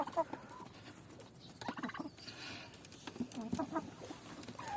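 Chickens and a turkey move about in a coop, with soft clucks, a few gobble-like calls and scratchy pattering, all faint and close, with no speech.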